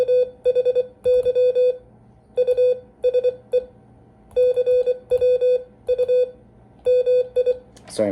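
Morse code sent with a key, a clear steady tone beeping in short dots and longer dashes grouped into characters with brief gaps between them, loud and close, ending in a short click of noise.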